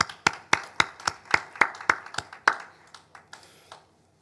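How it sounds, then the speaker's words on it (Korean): A Korean church congregation at a Wednesday worship service giving a round of clapping in praise to God: about ten sharp, evenly spaced claps in unison, close and loud, then a few scattered claps trailing off into quiet. "아버지 하나님께 감사와 영광의 박수 한번 올려드리겠습니다."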